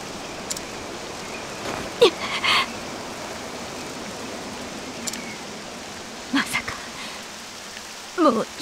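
Steady poison rain falling in the video game Octopath Traveler 2, a constant hiss of rainfall heard throughout, broken by a few brief sound effects and short bursts of speech.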